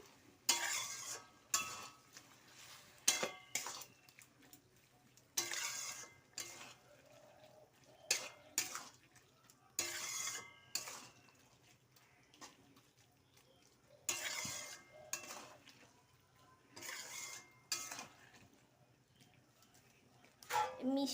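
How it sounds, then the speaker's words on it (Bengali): Cooking greens stirred in a pan after sugar is added, a series of intermittent scraping and clinking bursts of a utensil against metal separated by quiet gaps, fairly close. "মিষ্টিটা দিয়ে একটু নেড়ে নিচ্ছি"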